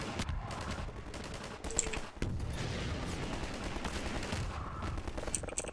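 In Half-Life 2, bursts of automatic gunfire rattle back and forth, dense and steady with one sharp gap, at a moderate level.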